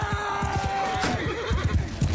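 Horse in the medieval combat game Mount & Blade II: Bannerlord, a high whinny over repeated hoofbeat thumps and battle noise, close and moderately loud.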